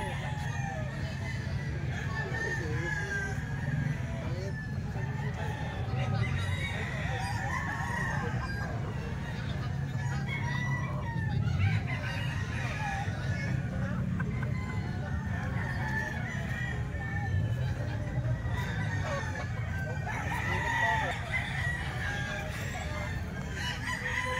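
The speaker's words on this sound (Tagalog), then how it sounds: "Mga gandang manok." Golden Boy sweater roosters at a fowl sale, crowing and clucking from several birds over a continuous low murmur of people talking in the background.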